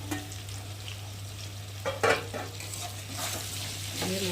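Salt, turmeric, chili powder, ginger paste, cumin paste and chopped tomato fry in a pan while being stirred: a steady sizzle with occasional scrapes and clinks of a utensil over a low background hum.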